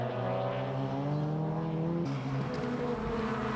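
Race cars at speed on the circuit at Pembrey, a Honda Civic among them, with steady engine drones whose pitch shifts as one passes, then a second engine note taking over, loud and close.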